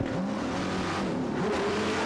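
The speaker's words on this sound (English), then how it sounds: "in the hands of Dindo Capello, finally back and underway" A 2008 Le Mans Series race car rejoining the Catalunya 1000 km race after a stop, its engine revving and climbing through gears with tyre noise, loud and close throughout.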